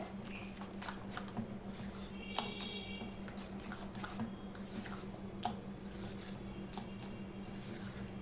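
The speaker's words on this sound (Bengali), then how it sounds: "আমি একটু চিনি দিয়ে দিলাম এটা অপশনাল দিয়ে আমি আবারও এটাকে ফ্যাটিয়ে নেবো ভালো করে" A whisk clicks and taps through a flourless batter with a little sugar in a bowl: quiet, irregular light strokes over a steady low hum, with no voices.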